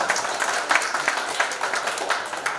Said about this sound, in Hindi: तालियों से हम आपका स्वागत करते हैं।